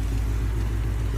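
A Ford Mustang S550 engine runs at a steady, deep idle, a close and loud low rumble with a slight pulsing throb and no other sounds.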